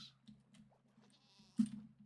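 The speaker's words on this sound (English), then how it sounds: "Here's the goat." A goat in Minecraft gives a single short bleat against a quiet background, with faint clicks and soft game sounds around it.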